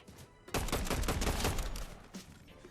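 A rapid burst of gunfire from the Fortnite video game, a fast cluster of sharp shots rattling for about a second and a half before tapering off, fairly faint overall.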